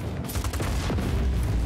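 An explosion in the video game Just Cause 4 rumbles with a deep low boom, followed by a rapid crackle of secondary blasts and debris over about two seconds, loud and continuous.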